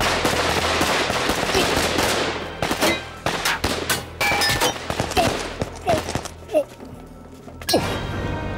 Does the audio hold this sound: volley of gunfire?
yes